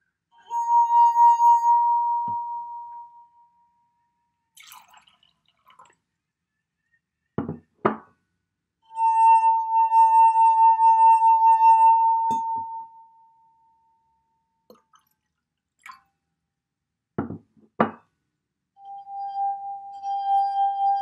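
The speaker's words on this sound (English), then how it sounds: "when I was pouring water in, it actually changed the pitch as it was ringing" Wine glasses rung as a musical instrument, each producing a sustained pure ringing tone that slowly decays, the pitch shifting as water is poured in, with sharp knocks and clinks between the tones.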